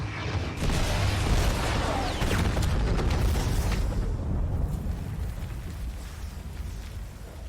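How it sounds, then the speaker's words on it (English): Precision Airstrike in the game Fortnite: a deep, rumbling explosion swells within the first second and roars on for several seconds, its crackling debris slowly thinning out with no voices. "Next is the Precision Airstrike"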